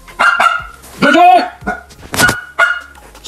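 A dog named Jay lets out a few sharp barks in quick succession, close and loud, mixed with a person's voice talking over and between them indoors.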